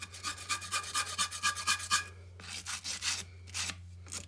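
File cleaner brush scrubbing an old metal vise, a steady back-and-forth rasping rhythm of about a dozen quick strokes, then a pause and a few slower scrapes, close and moderate.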